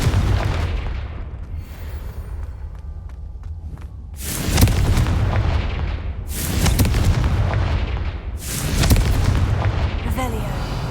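Confringo explosion spells in the Hogwarts Legacy video game go off as three loud booming blasts spaced a few seconds apart, each followed by a rumbling decay over a constant game background.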